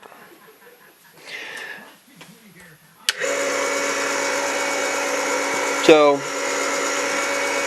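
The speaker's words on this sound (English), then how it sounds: "what you're going to want to do is chamfer and deburr the mouth of the case" A small motorized tool chamfers and deburrs the mouth of a .308 Winchester rifle cartridge case, a steady close whine that starts abruptly and runs to the end with a brief louder scrape, after some quiet talk.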